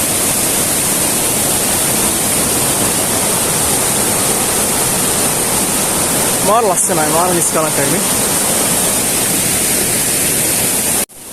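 Water pours down the Mini Ella hidden waterfall in Sri Lanka as a loud, steady, close roar that never lets up. A voice speaks briefly partway through, and the sound cuts off abruptly at the end.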